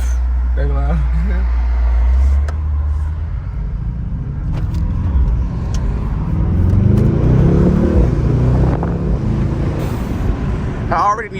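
A Mercedes-AMG GT63s engine runs loud with a deep, steady rumble that rises and swells as it revs, close and continuous from start to finish.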